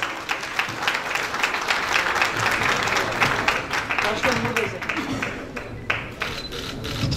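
Audience applause at a Turkish Yörük Türkmen workshop opening as a thank-you plaque is presented, a dense, steady wash of clapping lasting throughout with voices mixed in underneath.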